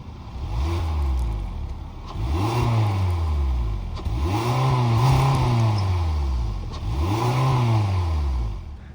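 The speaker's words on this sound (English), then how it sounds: "the sound of the 2-liter dual overhead cam 4-cylinder sold by Hyundai" A 2022 Hyundai Elantra SE's 2-liter dual overhead cam four-cylinder engine revs up and falls back four times in a steady rhythm, each rise a close, loud, buzzy climb with no talking.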